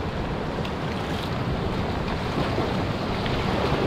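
Canoe paddling on a remote Arctic river, with a steady broadband rush of moving water and wind that stays loud and constant throughout, with no voices and no distinct individual paddle strokes.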